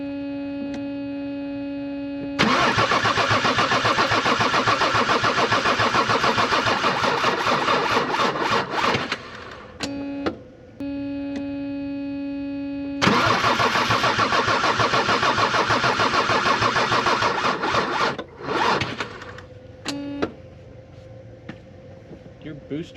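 A 7.3 diesel engine on a truck cranks over and over with a jump booster box in two long, loud, rhythmic starter runs separated by pauses. It never catches, and a steady electrical tone can be heard between attempts.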